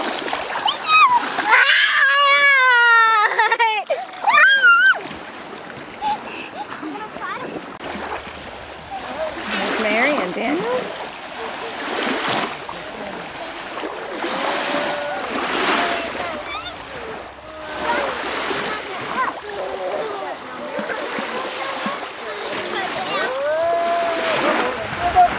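Water splashing and churning in a bath, with a child chattering and squealing at the start, then steady sloshing and repeated splashes continuing under talk.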